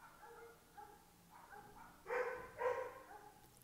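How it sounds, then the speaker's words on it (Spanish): A small dog yips and barks a few times at moderate distance, the last two barks sharper and louder. "Esa sí es mi perrita."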